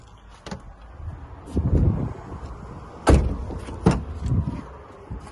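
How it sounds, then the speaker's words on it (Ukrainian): The central locking button of a 2012 Nissan Qashqai+2 1.6 diesel sets the door locks working, giving a few muffled mechanical clunks and thuds inside the cabin, with two sharper clicks near the end. "Кнопка центрального замку."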